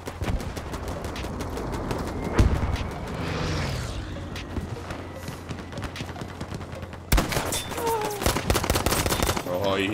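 Gunfire in the World War II shooter Battlefield 5, a steady stream of rapid shots running through the whole clip, with a sharp louder burst near the end and game sounds underneath.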